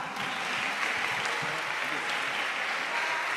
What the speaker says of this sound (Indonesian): tepuk tangan yang meriah untuk Nabil